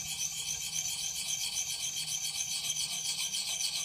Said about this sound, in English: as I move the stone out further